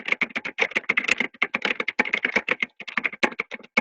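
Someone types a post on a computer keyboard, a rapid, close run of crisp key clicks with brief pauses.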